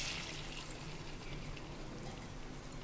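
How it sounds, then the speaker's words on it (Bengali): Water poured into a pan of ash gourd cooking, a faint steady hiss and trickle with no break. "একটু এবার আমি এখন জল ছেড়ে দিলাম"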